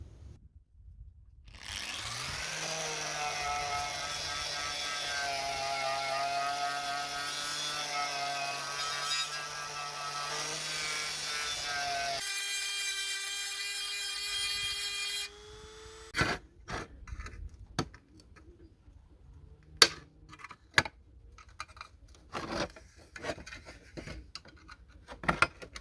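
Abrasive tool scrubbing rust off the tin of a vintage socket set: a long steady whirring grind for about thirteen seconds, then a change of pitch, followed by scattered sharp clicks and knocks.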